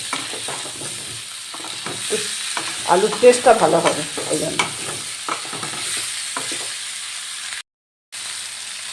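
Potatoes fry in a hot pan with salt and turmeric while being stirred, giving a steady sizzle broken by scraping stir strokes, close and fairly loud, with a soft voice speaking briefly over it.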